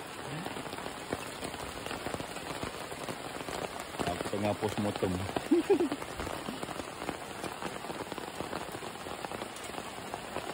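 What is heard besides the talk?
heavy rain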